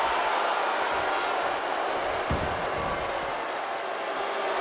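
A packed arena crowd in the WWE 2K24 wrestling video game roars in a steady, dense wash of cheering and applause, with a brief dull impact near the middle; no one speaks.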